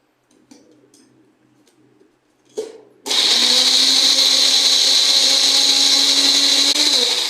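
A mixer grinder purees fried onion with a little water into a paste, starting after a few soft clinks and taps with a sudden loud, steady whirring roar that holds close and strong to the end, its pitch shifting slightly near the finish.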